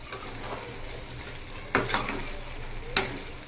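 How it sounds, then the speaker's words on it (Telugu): A spoon stirs chicken with coriander powder, chicken masala and garam masala in a pan for green chilli chicken, a soft continuous scraping sizzle broken by two sharp metallic clanks against the pan. "ఇవన్నీ వేసుకొని బాగా కలుపుకొని చూసుకోవాలి"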